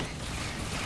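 Weapon reload in the Halo 2 video game: a brief, steady mechanical clatter with ratcheting, creaking clicks, filling under a second at constant level with no talk.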